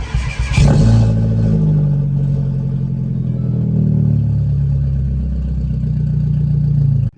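A Mini Cooper S R56 engine runs after repair, settling into a steady, stable idle following a brief rev at the start, close and loud with no talking.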